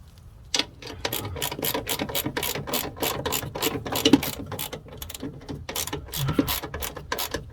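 A hand ratchet tightens a bolt on an Onan 5500/7000 generator. A long run of quick, close metallic clicks comes in steady bursts, fairly quiet and with no talking.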